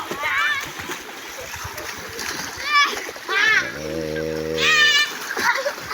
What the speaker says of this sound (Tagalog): Sa pag-swimming dito mga bata oh.